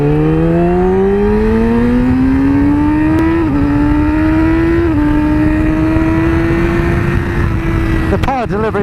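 A 2017 Yamaha R6 sport motorcycle engine pulls up through the revs as the throttle is wound open, a steady loud drone rising slowly in pitch with a brief dip as it climbs, ending in a burst of wind buffeting.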